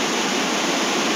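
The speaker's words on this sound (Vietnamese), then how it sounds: "Đây là đầu nguồn nhá. Đây là cái suối này." A small mountain stream at its source flows in a steady, dense broadband rush of water, close and continuous with no talk over it.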